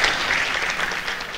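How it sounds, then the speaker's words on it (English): Audience applause at a PyCon conference talk, a dense steady wash of many hands clapping throughout, fairly loud with no speech. "Can we have a round of applause for them?"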